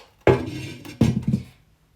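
A lid set onto a clay tagine pot holding fish in a Moroccan kitchen, giving two or three close clinking, scraping knocks of ceramic on ceramic, with no talk.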